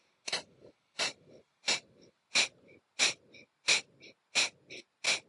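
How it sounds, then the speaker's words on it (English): Rapid breath-of-fire yoga breathing: eight sharp, forceful nasal exhales pumped from the belly at a steady rhythm of roughly one per 0.65 seconds, close and clear with no talk. "for the breath of fire, so we're gently pumping our belly as we in and exhale through the nose dynamically"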